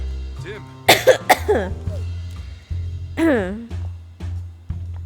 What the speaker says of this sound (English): I'm sorry for my coughs, y'all.